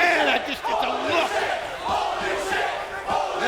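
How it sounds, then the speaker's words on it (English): Loud TNA wrestling arena crowd roaring and chanting in rising and falling waves, a dense wall of voices filling the whole clip. "The crowd telling you what they think of everything."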